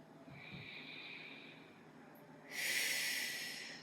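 Faint, close breathing during a vinyasa yoga flow. A soft snorting inhale comes early, then a louder airy hiss of breath near the end, set against quiet background hiss.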